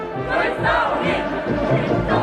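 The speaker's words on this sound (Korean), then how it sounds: "순간 폭풍 같은 만세 환호성이 하늘 땅을 뒤흔들며 온 연도가 끝없는 감격의 파도로 세차게 설레였습니다" A huge roadside crowd of citizens roars hurrahs and cheers as a motorcade arrives, a dense, continuous swell of many voices rising and falling in waves, loud and close throughout.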